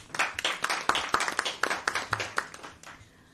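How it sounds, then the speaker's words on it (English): An audience at a youth football press conference claps in a quick, steady series of sharp hand claps that fade out near the end, over a faint room background. "I think we need to just clap our hands for this"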